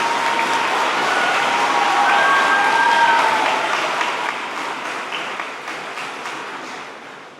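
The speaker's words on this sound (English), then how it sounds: "Give them a round of applause." A school concert audience gives loud, sustained applause for the 7th and 8th graders helping the 6th grade band at a spring concert, with a few cheers early on before it gradually fades.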